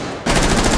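Rapid automatic gunfire in the Rainbow Six Siege video game, a loud continuous burst of shots starting abruptly after a brief quieter moment, close and dense.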